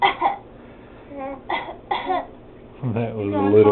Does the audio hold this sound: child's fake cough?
yes